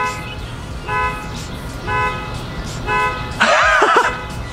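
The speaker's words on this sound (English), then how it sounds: "I just set off a car alarm." A car alarm honks in regular repeating bursts, about once per second, then switches to a rapidly warbling electronic tone near the end.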